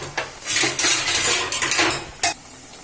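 A metal spoon scrapes and clinks against a cooking pot while boal fish curry is being made, several irregular clanks and scraping strokes close by, with faint sizzling underneath and no talking.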